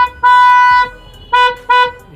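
Dual trumpet horns on a Maruti Alto K10 blare loudly, one long blast followed by two short toots, close up and bright.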